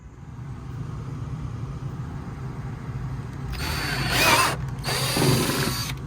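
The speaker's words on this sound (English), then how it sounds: "I'm gonna drill this hole right here." A power drill whirs in two short bursts, drilling a hole for an RC airplane fill station, after a quiet stretch of low background hum, close and moderately loud, with a brief pause between.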